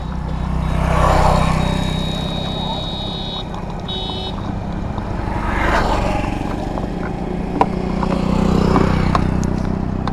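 A 2022 Yamaha MT-15 V2 motorcycle runs with a steady low engine drone throughout, set among broadband outdoor noise and faint background voices, with a brief high tone and a sharp click partway through.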